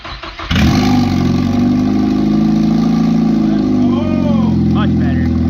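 A Ford Focus ST fitted with a turbo bought on eBay cranks briefly, then catches and settles into a loud, steady idle close to the listener. Near the end a voice speaks over the running engine.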